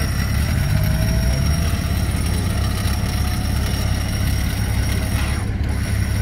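A Niva off-roader fitted with a Mercedes 606 engine idles outdoors with a steady, close, low mechanical rumble and a rapid rhythmic clatter.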